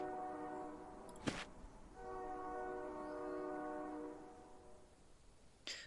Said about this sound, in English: hear the distant train whistle.